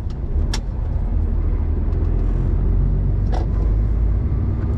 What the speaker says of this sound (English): the big camouflage truck that's just driving past